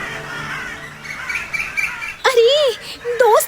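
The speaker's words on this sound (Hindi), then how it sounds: "कौवे उसे यहाँ से वहाँ भगा रहे हैं" Cartoon crows cawing as they chase a koel, a few harsh, bending calls rising over background music and bird chirps near the end of a short stretch.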